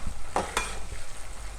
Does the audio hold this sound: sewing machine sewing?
no